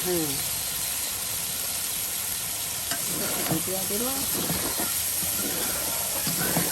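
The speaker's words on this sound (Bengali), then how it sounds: "কত সুন্দর করে চিংড়ি মাছগুলো সেই মশলার সাথে কষিয়ে মজিয়ে নেওয়া হচ্ছে" Shrimp being sautéed with spices in a pan for a taro and shrimp bhuna makes a continuous close sizzling hiss with occasional stirring scrapes, while voices murmur over it.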